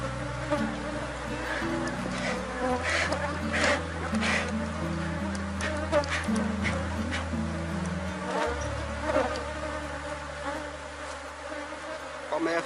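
Honey bees hum and buzz continuously at an open hive during a swarm split, a dense close drone with individual bees flying past, over a low steady background tone.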